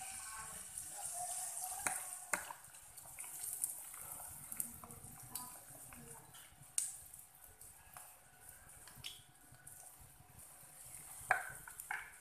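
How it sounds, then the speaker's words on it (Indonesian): Martabak batter hitting a hot Teflon frying pan, a soft, steady sizzle with a few faint clinks, quiet and close with no talking. "Kita tuangkan aja adonannya."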